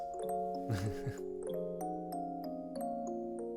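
School bell chimes in the video game Aoi Tori, a sustained sequence of clear ringing tones layered over soft game music, with one brief low swell near the start.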